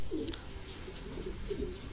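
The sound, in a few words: racing pigeons cooing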